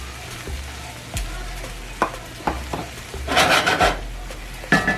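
Shrimp stirred with melted Earth Balance butter in a hot pan, a close scraping and stirring in bursts over a steady soft sizzle, with no talking.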